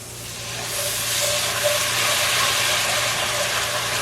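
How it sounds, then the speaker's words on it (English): Water deglazing a hot pan of butternut squash curry gives a steady, loud sizzling hiss with rising steam that swells after the first half second and holds to the end. "I'm going to deglaze this with a 1/2 cup of water."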